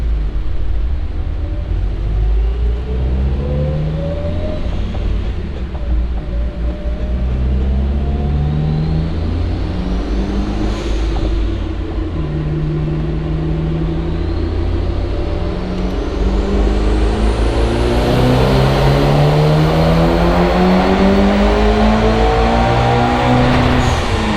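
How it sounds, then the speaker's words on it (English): A Mitsubishi Evo 9 with a Forced Performance HTA71 turbo on E85 revs hard on a dyno, a loud sustained engine roar climbing through the rpm range with rising whine over about twenty seconds. "on this run, I intentionally hit the throttle a little bit later"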